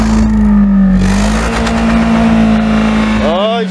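A car engine revved hard toward full throttle, a loud steady drone with a pitch that rises and sweeps near the end, close up; some faint voice under the engine.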